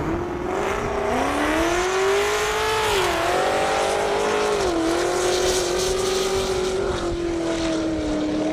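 Drag racing vehicles roaring down an airport airstrip, a loud continuous engine drone whose pitch climbs and shifts through gear changes, sustained throughout with no talk.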